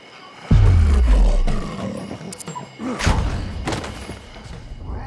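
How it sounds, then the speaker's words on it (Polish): A tiger in Ancestor: The Humankind Odyssey lets out a loud, deep roar that booms up close and trails off over a couple of seconds, followed by thuds and rustling game sounds. "Pierdzielony tygrys."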